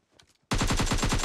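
Automatic gunfire in the mobile shooter game PUBG Mobile erupts suddenly after a faint moment, a loud, rapid, evenly spaced string of shots that continues steadily to the end.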